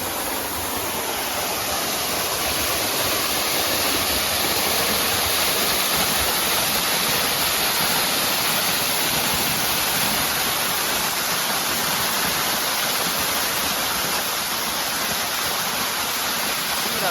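A steady, loud roar of falling water at Maasilla waterfall in the Kolli Hills fills the whole stretch, a constant broadband rush with no pauses.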